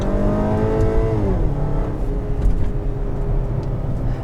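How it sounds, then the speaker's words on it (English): A 2017 Audi Q3 Premium in sport mode revs up loudly, its engine note climbing and then dropping at an upshift before pulling steadily again, heard continuously with no speech. "In sport mode, the transmission is not afraid to let it rev out"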